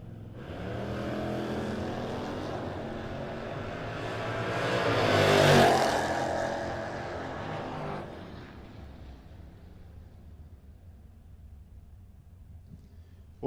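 Drag race cars, a 4th gen Camaro and a 1960 Chevy wagon, launch and roar down the strip, the engine noise building to a loud peak as they pass, then fading into the distance.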